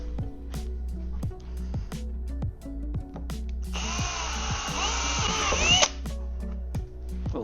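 A power drill fitted with a 21/64 bit bores during an oversized fuel tank installation, running in one loud, steady burst of about two seconds over a low, rhythmic ticking background.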